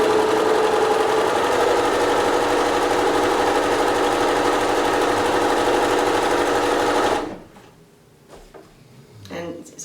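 A sewing machine runs in one continuous, fast, steady burst while chain piecing quilt fabric, then stops abruptly, leaving quiet handling noises.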